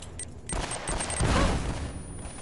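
A bomb going off in Uncharted: Drake's Fortune, a broadband burst that swells into a loud, rumbling blast lasting about a second before tailing off, with gunfire-like crackle before it.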